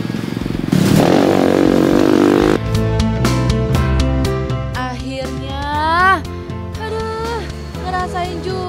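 A motocross motorcycle on a countryside trail revs and clatters past close by, with repeated bursts of throttle and rising and falling engine pitch, plus scraping and rattling over the rough ground.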